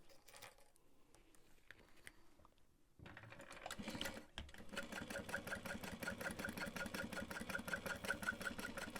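A sewing machine sews a half-inch bottom seam on a tote bag, starting after a few quiet seconds of handling and then stitching in a steady, rapid, close rhythm to the end.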